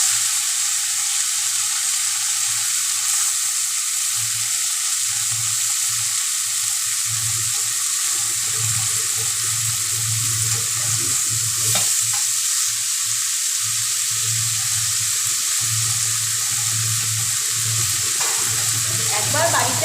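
Water spinach greens frying and being stirred in a hot pan, a steady close sizzle with rhythmic scraping and stirring strokes throughout.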